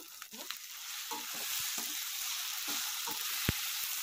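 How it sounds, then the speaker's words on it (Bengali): Ginger-garlic paste frying with cumin powder and chilli powder in a pan, a steady close sizzle with intermittent scraping stirs throughout, no voices. "দু মিনিট ভেজে নেবো আদা রসুনটা দিয়ে"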